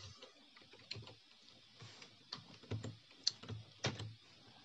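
Code is typed on a computer keyboard in short runs of soft, close key clicks, with a few sharper taps toward the end, faint and alone in a quiet room.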